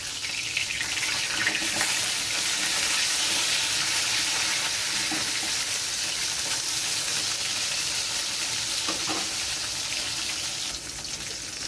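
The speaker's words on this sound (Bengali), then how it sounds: "মাছ ভাজা হয়ে গেছে এগুলো আমি তুলে নিচ্ছি" Fish frying in a pan, a loud steady sizzle of hot oil filling the whole stretch, close and continuous with occasional spatters.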